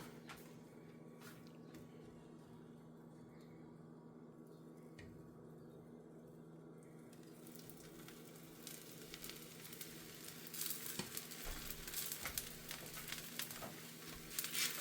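Barley dosa batter sizzling in a hot pan, a steady soft frying hiss throughout that grows louder and crackly toward the end, with no talking.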